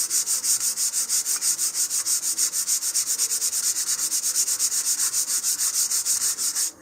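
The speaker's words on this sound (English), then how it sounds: "So here, I'm just going to sand with the grain." Steady, rhythmic back-and-forth rasp of a sanding block along the grain of wood on a model rocket part, close and continuous, with regular even strokes throughout.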